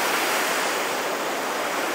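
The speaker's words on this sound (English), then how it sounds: "And that's the actual weir. That's quite spectacular. A lot of water going through there." River water pours steadily over a weir on the River Soar, a loud, continuous rushing roar close by with no talking.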